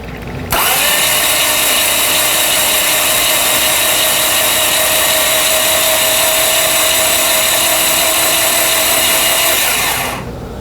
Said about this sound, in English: So let's crank her over a bit and see what happens.